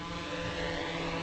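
A DJI Mavic 3 drone hovers close by while coming in to land, its propellers producing a steady, dense, loud buzzing whine with no breaks.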